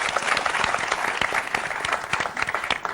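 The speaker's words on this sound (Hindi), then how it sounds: "जोरदार ताली" A comedy-show studio audience breaks into loud, vigorous applause, many close hands clapping in a dense, busy burst that keeps up strongly throughout.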